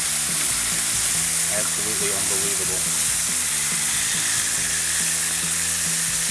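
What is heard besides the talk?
thick cut bacon sizzling on a Blackstone griddle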